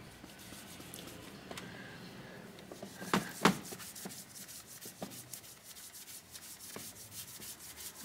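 Baby wipes rub across the anti-glare coating of a Dell laptop screen, a soft, close, steady scrubbing with a couple of sharper squeaks midway, quiet overall and with no talking.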